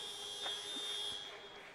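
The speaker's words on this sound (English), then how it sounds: "And the buzzer does sound." End-of-period buzzer at an ice hockey game, Sheffield Scimitars versus Nottingham Lions in the Three Rivers Cup, a steady, fairly faint electronic tone sounding through the arena noise for the whole moment.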